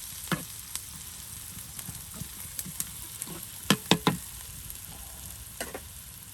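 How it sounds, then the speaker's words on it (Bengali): Onions fried crisp in hot oil with garlic in a village kitchen, a steady soft sizzle broken by sharp clinks and scrapes of a spatula against the pan, several louder scrapes near the end, no voices. "পেঁয়াজগুলো একদম জোরে মসমসে ভেজে নেওয়া হচ্ছে, তার সাথে রসুন দিয়ে দেওয়া হচ্ছে"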